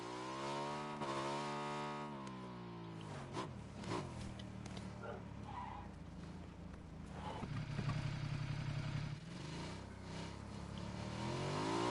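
A motorcycle engine in a multiplayer video game hums steadily and close, with its pitch rising and falling as it revs and shifts, and brief clattering bumps partway through.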